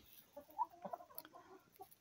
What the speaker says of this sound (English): Hi, little red hen.